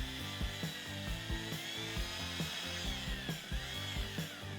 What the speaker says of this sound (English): it's really recommended to use a power mixer to get this good and mixed up.